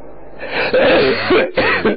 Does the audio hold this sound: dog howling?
no